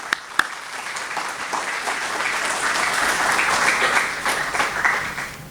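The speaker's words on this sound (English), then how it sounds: "I want you to applaud First Caribbean for that donation" An audience at a medical talk on hypertension breaks into sustained applause for a bank's donation, with the clapping swelling in the middle and continuing to the end.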